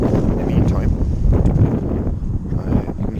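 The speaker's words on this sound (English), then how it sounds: "It's getting windy here." Gusty wind buffets the microphone with a steady low rumble throughout, loud and close, with no clear voices.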